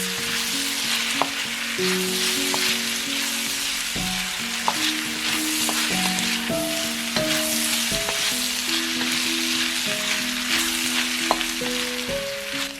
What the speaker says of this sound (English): Give it a quick stir, being careful not to overcook the veggies.